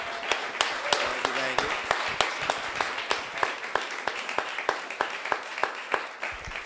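An audience applauds at the close of a panel discussion at a talk event. The clapping is sparse and fairly rhythmic, with sharp individual claps repeating steadily and a little background talk early on.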